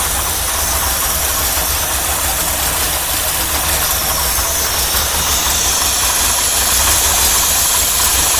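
A 1985 Chevrolet C4 Corvette engine runs rough and misfires, a loud, steady idle with uneven stumbling under a constant hissing roar, close by and without pause.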